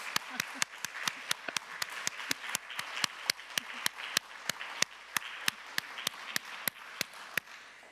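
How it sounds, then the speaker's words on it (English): Steady, evenly spaced claps ring out after a talk, sharp and regular at about three per second, sounding like a few people or one person clapping near a microphone over a quiet background. "We were already clapping here, but we might do that once more so that you can hear us."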